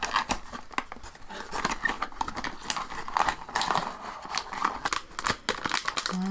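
Crinkly plastic and foil rustle and tear as a Pop Mart blind box package is opened, a busy run of sharp crackles and snips up close with no talking.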